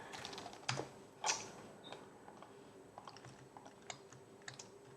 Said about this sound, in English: I start typing search and replace